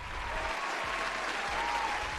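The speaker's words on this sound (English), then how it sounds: "Give him a round of applause." An audience applauds on a talk show, a steady wash of clapping at moderate volume, fairly distant, with a few low thumps and a faint tone under it.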